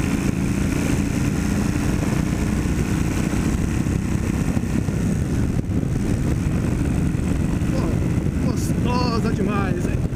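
A 1997 Kawasaki Vulcan 1500 motorcycle engine drones steadily while riding, with constant wind rush over the microphone and a brief voice near the end.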